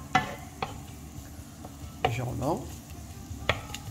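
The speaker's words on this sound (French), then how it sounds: "je fais le choix de rajouter l'ail avant les blettes, de manière à ce qu'il se caramélise un petit peu avec" Garlic hits butter and olive oil in a hot pan for chard, sizzling softly under a few clinks and stirring taps, close by, while someone speaks briefly in French.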